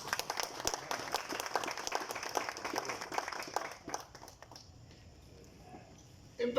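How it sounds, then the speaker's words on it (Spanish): Audience applause at a talk on Dominican independence, a scattered patter of clapping from a modest crowd that thins out and fades to near quiet partway through. "yo pensé que iban a aplaudir eso"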